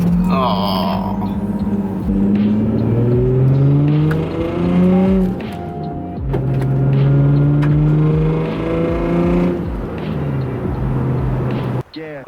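A Nissan 350Z being driven, its engine loud and close as revs climb repeatedly and drop at gear changes, a continuous rising-and-falling drone lasting throughout.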